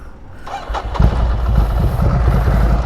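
A Honda CB650R motorcycle engine cranks briefly and catches, then settles into a loud, close, throbbing idle rumble.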